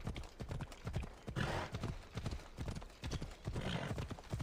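Horse hooves clip-clopping in the Assassin's Creed Odyssey video game, a steady run of close hoofbeats with occasional louder bursts of movement, and no talking over it.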